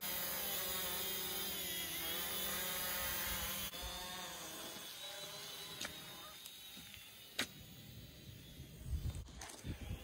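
A camera drone flies near a lake during remote-control boat fishing, its high whining buzz of propellers steady and fairly close, with pitch shifts and a few knocks and bumps toward the end.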